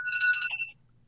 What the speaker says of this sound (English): I have that ring because that's the loudest, most annoying ring that there is